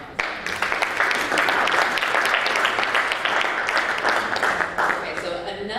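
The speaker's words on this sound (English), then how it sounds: "That deserves a round of applause." Audience applause at a conference session, swelling in quickly and holding as loud, dense clapping from a large crowd before tapering off near the end, with a little speech surfacing as it fades.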